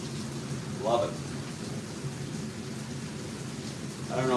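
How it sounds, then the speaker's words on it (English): Steady rain falls outside as a constant soft hiss, with a couple of brief faint tonal sounds rising above it. "I don't know if you all hear the rain. It's beautiful."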